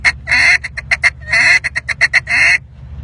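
A duck call blown in a contest-style feed chuckle, delivering bursts of rapid, loud quacks in quick rhythmic clusters with short pauses between them, close and alone without talk.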